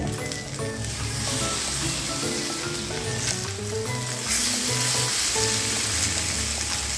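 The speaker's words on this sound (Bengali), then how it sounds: "আর এরকম করে উল্টে পাল্টে এই দিকটাও আমি ভালো করে ভেজে নেব" Eggplant slices fry in oil in a pan, crackling and sizzling continuously at a steady, fairly loud level with occasional sharper pops.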